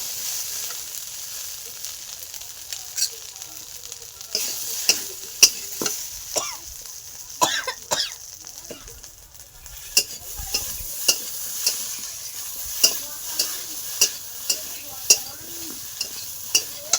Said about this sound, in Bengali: দিয়ে দেবো আদা জিরে বাটা। এবার ভালো করে কষিয়ে নিতে হবে।